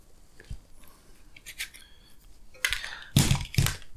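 Scissors or cutters snipping through electrical wire while wiring an e-bike, a few faint clicks followed by two louder, close crunching cuts near the end.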